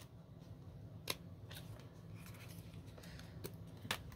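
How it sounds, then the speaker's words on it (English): Scissors snip paper just below a fold while making coin envelopes for a mailer, giving a few sharp, close cutting clicks spaced out over a quiet room. "come and cut right below the crease"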